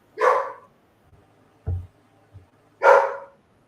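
A bulldog-type dog gives two sharp barks about two and a half seconds apart, close and clear, with a few soft thumps and shuffles in the quiet gap between them.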